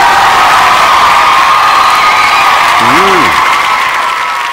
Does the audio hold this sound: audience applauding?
yes